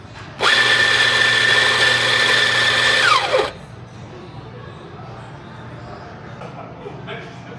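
A Gino Rossi RR45 espresso grinder with a freshly repaired doser runs loudly for about three seconds with a steady whine, then winds down as the motor stops, leaving quiet room noise.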